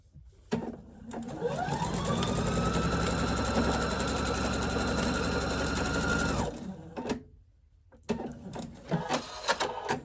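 A sewing machine stitches a quilt block in one long, steady run of several seconds, its motor whirring loudly before stopping abruptly, followed by a few softer handling noises.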